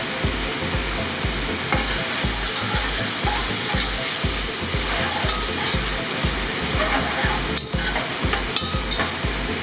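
A pre-simmered wild rice mixture sizzles loudly in a hot pan, a steady close frying hiss with a regular pulse of stirring running through it, no voices.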